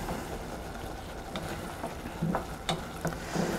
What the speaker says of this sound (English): you stir this constantly, constantly, constantly while you're cooking the rice